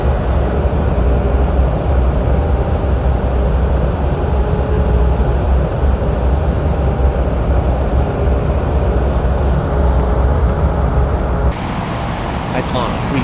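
Airliner taking off from runway 17 right at Capeville International in an air traffic control video game, a loud, steady engine roar with deep rumble that holds for the whole stretch before easing slightly near the end.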